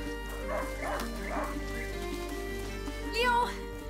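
A hunting dog in the video game A Plague Tale: Innocence gives short yips and whimpers over a steady game ambience and music bed, close and moderately loud.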